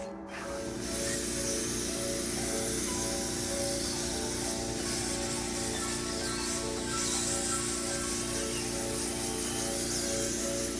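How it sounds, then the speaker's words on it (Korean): A steady, loud hiss of an air spray gun applying a finishing coat of paint to a mailbox made from a gas cylinder, continuous for about eleven seconds, with a compressor-like hum beneath. "마감으로 한 번 더 칠할 때는 에어 스프레이건으로 완전히 마감했습니다"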